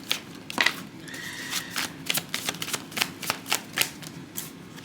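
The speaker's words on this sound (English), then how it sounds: "I'm gonna see what cards come out." Tarot cards being shuffled and drawn, close-up riffles and soft slaps of cards in irregular bursts, fairly quiet.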